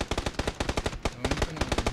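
Rapid automatic gunfire from players in PUBG, with a fast, even stream of sharp shots in quick bursts and a brief gap midway, loud and continuous.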